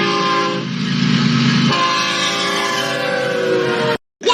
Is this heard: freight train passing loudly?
yes